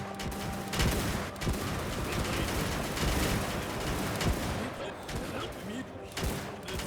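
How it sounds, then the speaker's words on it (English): Massed troop gunfire crackles almost without pause in Mount & Blade II: Bannerlord, a dense, loud fusillade of overlapping shots and volleys with sharper bursts throughout, while voices talk underneath. "beauty of just our men firing is great"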